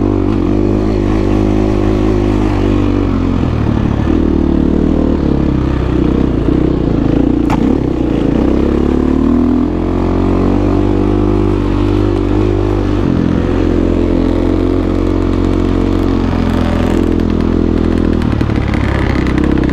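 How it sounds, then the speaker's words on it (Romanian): An enduro motorcycle engine runs steadily and loudly throughout a ride, with a constant droning roar and slight changes in pitch as the throttle shifts, and no voices over it. "Dar motorul merge bine, nu a fost problemă."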